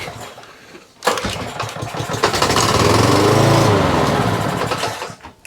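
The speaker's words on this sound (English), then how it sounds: "Because we've got a spark, the engine actually started to fire." A Cobra lawnmower engine catches after a pull-cord start, bursting loud and close after a second of quiet, running roughly for about four seconds, then cutting out abruptly.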